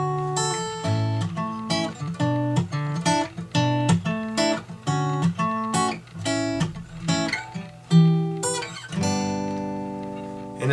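Guitar strummed through the chord progression of a song, with steady rhythmic chord strokes and sustained ringing notes, played alone and close.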